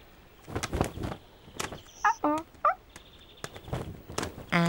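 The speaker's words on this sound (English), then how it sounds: "First, the amazing bird." A cartoon bird at a circus show gives a few quick warbling, gobbling calls in bursts, amid soft thumps and rustling sounds.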